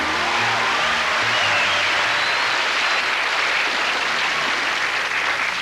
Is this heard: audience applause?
yes